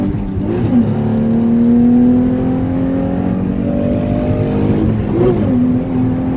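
A manual Nissan 350Z with changed camshafts accelerates at full throttle, the engine loud and close, revving up in long rising sweeps with a quick shift and climbing again.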